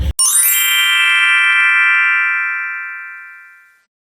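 A bright notification bell chime rings once, close and clear, its metallic tone ringing out and slowly fading over about four seconds with no talking.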